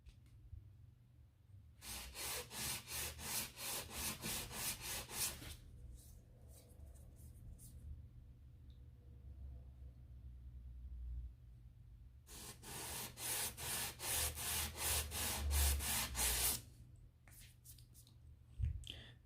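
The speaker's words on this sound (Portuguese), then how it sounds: "com uma lixinha, eu vou dar uma aplanada da superfície aqui, deixar bem plana" Sandpaper is rubbed by hand to flatten a metal surface on a Volkswagen Beetle part, two bursts of rapid, rhythmic back-and-forth strokes, quiet and close, separated by a pause of faint handling.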